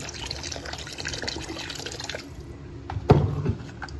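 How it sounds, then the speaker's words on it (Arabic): Water is poured into a pot of couscous with meat during cooking, a steady liquid splashing and trickling close by, ending with a brief clatter and a few drips. "تنجيب الماء، تنعطيه الماء في الاول."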